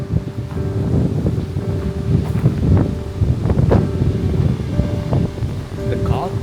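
Steady wind gusts across an open natural landscape in Finland near a house, a continuous rushing roar buffeting the microphone, with faint scattered knocks and no clear talk.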